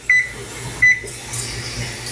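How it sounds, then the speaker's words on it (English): An oven control panel gives two short, sharp electronic beeps close by as it is set for convection roast, with a soft rustle in a quiet kitchen between them. "put the oven on convection roast for 420"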